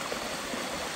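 Rushing stream water near a waterfall, a loud, dense, unbroken roar of flowing water close at hand.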